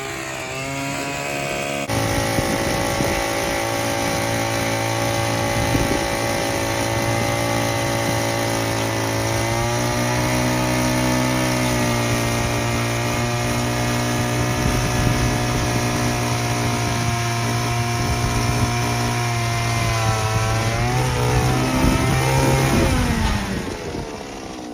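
A gas-powered ice auger bores a hole through lake ice, its small two-stroke engine droning loud and close for over twenty seconds with shifting revs, then dropping away as the drilling ends; no talk.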